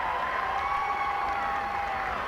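Bicton College supporters cheering at a rugby match make a steady, distant crowd roar, with a thin sustained whistle-like tone running through it.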